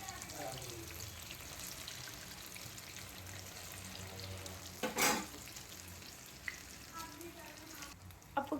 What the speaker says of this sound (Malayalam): ഇനി ഇത് ഇവിടെ ഇത്രയും ഫ്രൈ ആവാൻ കിടക്കുക.